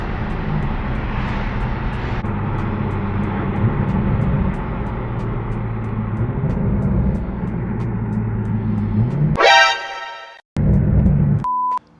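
A Toyota A90 Supra engine rumbles and drones loudly, then a sharp rev burst and abrupt cutoff around a downshift, followed by another brief rev and an electronic beep near the end.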